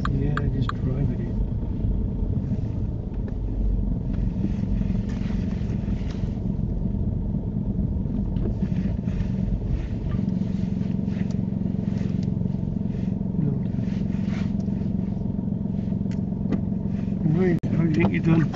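A car creeping forward into a parking bay during a UK mock driving test, a low steady engine rumble from inside the cabin with people talking over it.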